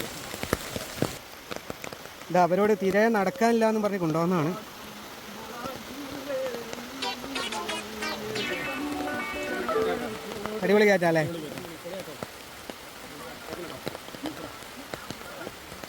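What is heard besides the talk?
rain falling during a walk to a waterfall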